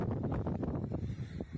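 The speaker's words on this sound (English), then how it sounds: "She's windy today, guys." Wind gusting across an exposed Church of Ireland churchyard among graves, a steady low buffeting rumble with blustery surges hitting the microphone, no voices heard.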